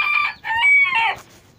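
A rooster at a breeding farm crows loudly and close by in one drawn-out call, with a brief break partway through.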